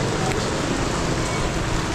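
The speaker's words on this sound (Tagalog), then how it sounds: "Takas guys ang ulan." Heavy rain falls steadily, a dense, even hiss and patter that fills the whole stretch at constant loudness, with no clear voices above it.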